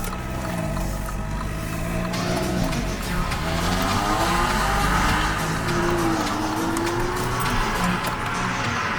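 A Toyota AE86 car driving, its engine revving and droning with rising and falling pitch, loud and steady throughout with faint road and wind noise.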